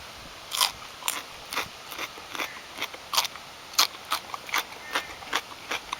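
Repeated crisp crunching bites and chewing of snow peas, a dozen or so sharp crunches at an uneven pace, close and clear with no talking.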